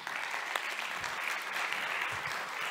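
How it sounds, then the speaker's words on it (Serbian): Conference audience applauding to welcome a speaker to the stage at DIDS 2023; steady, dense clapping fills the room from start to finish at an even level, with no voices over it. "Molim da ga pozdravite aplauzom"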